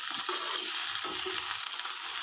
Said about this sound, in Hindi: ग्रीन अनियन जो है वो हम इसको तेल में जो है वो फ्राई करेंगे